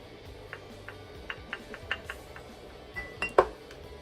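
Eczema therapy powder scooped and mixed with softening gel in a bowl, a series of light, sharp clicks and taps of the utensil against the bowl, quiet and close, with a louder clatter near the end.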